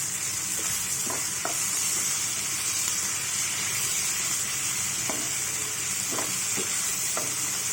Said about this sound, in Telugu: ఇప్పుడు మెంతి కూర వేసుకోవాలండి